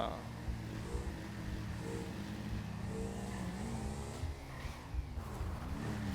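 A Yamaha R1 superbike on a mountain ride pulls hard, its engine note climbing and shifting through several rising sweeps, loud and continuous, with wind rush throughout and a rider shouting excitedly over it.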